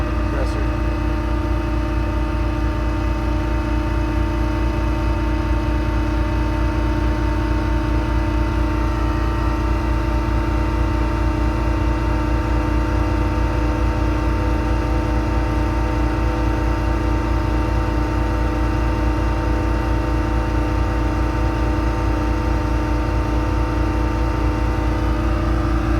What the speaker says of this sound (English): Very quick operation on the compressor.